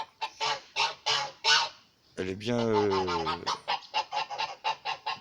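Geese at their garden pond give a series of loud, close honks in short bursts, with one longer drawn-out call in the middle, and a voice speaks briefly among them.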